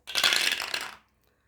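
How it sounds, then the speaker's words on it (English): Two dice tumble briefly across a hard surface for a board-game challenge, a close, bright clattering rattle lasting under a second before stopping abruptly. "Roll 2 dice."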